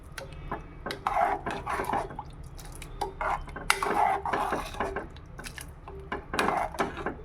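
Tamarind water is mixed in a pot with a utensil, giving soft repeated scraping and clinking of metal on the pot at close range, with no talking.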